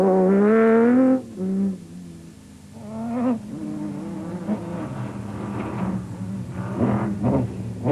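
A Ford Ranger races through the 2004 Sun City 400 rally, its engine revving loudly and rising and falling in pitch as it passes close by.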